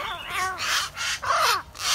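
Caged myna birds calling in a row of harsh, crow-like caws, about four loud repeated calls close by with brief gaps between them.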